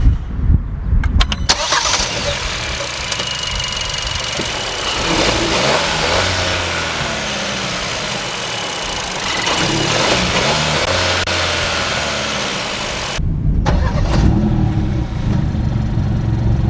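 A 2021 Hyundai Kona with the Smartstream G1.6 turbo gasoline engine and 7-speed DCT starts and runs, cranking into a close idle that swells through revs and settles before falling quiet, then resuming near the end.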